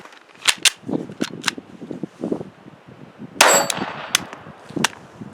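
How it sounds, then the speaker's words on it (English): Several sharp Glock 44 .22 pistol shots ring out at an outdoor range, spaced irregularly, with one louder crack near the end and quieter handling clicks between, including a failure to fire. "so I had a malfunction right there, failure to fire"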